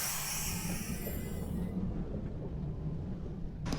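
A New York subway 5 train running, a steady low rumble of wheels and motors, loud and close, with no voices.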